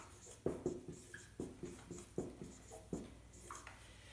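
A pen scratches across paper in quick uneven strokes, close and quiet, with short bursts and pauses like jotted numbers during a timed quiz round.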